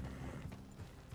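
Horse hooves clop in Red Dead Redemption 2, a steady run of hoofbeats set low in the mix beneath game ambience.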